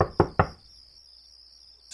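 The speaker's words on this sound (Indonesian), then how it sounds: "Siapa yang ngetuk pintu kamar tengah malam gini?" Two sharp knocks on a bedroom door at night ring out close together near the start, then a long quiet stretch with a faint steady tone follows.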